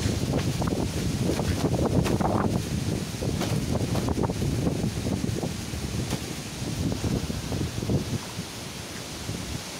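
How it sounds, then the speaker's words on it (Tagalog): Strong wind buffets and rumbles in gusts, roaring close with a rustling texture, loudest early and easing slightly toward the end. "medyo lumakas na naman yung hangin dito"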